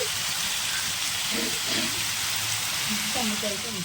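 Salted onions frying in a pan for egg bhurji biryani, giving a steady close hiss of sizzling with faint clatter of stirring, a voice talking softly underneath.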